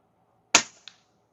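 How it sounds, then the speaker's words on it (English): An Umarex NXG APX multi-pump air rifle fired outdoors: one sharp, close crack followed by a short fading tail and a faint click, with silence before and after. "We're going to shoot at Sergeant Stump real quick just to make sure this thing is firing."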